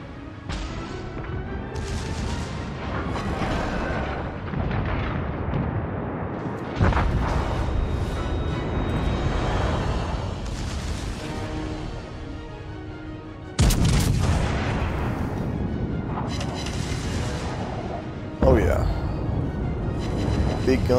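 The USS Alabama battleship's big guns fire in World of Warships: heavy booming salvos with long rumbling tails, several loud blasts spaced across the stretch amid ongoing battle noise, with someone talking over them.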